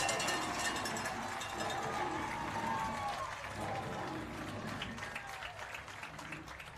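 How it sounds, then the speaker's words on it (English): A high school football crowd at halftime of Nixa vs Republic makes a broad, distant wash of cheering and applause-like noise, steady and gradually fading, with indistinct voices mixed in. "let's listen to the crowd"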